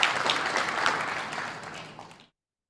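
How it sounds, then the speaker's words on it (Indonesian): An audience claps for a guest at an executive property dialogue event, with a full burst of applause that gradually thins and stops after about two seconds. "Jadi tepuk tangan buat Bapak Lee."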